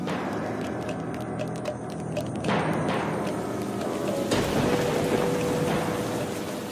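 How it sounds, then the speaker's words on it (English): Heavy rain pours steadily over savanna in southern Niger, a loud continuous hiss with scattered heavier drops and low rumbles throughout. "At the end of the month of May, heavy rain falls on southern Niger."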